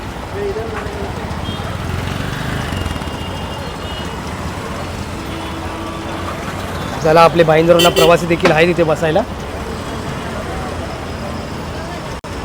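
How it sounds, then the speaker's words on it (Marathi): A brand-new Ashok Leyland BS-6 MSRTC state transport bus pulls in at a roadside stop in Bhayander, its engine rumbling amid steady traffic noise, with a brief burst of horn or beeping partway through and someone talking throughout. "नवी करकरीत आपली अशोक लेलँडची बी एस सिक्स गाडी आपल्याला दिलेली आहे"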